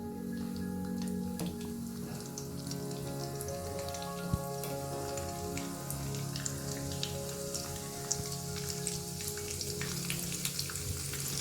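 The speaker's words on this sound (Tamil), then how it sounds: "பொரியுது." Mustard seeds, urad dal and chana dal with turmeric fry in sesame oil: a steady, close crackling sizzle with scattered sharp pops and spits throughout, and no talking.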